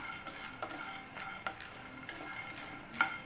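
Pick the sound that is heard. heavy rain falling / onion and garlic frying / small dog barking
onion and garlic frying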